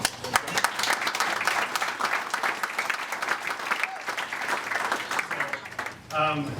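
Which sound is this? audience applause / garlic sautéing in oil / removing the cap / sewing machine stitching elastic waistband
audience applause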